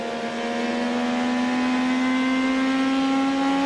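An Indy 500 race car engine held at full throttle on the concrete, a loud, steady high-pitched howl with a sustained tone that rises slightly and never lets up.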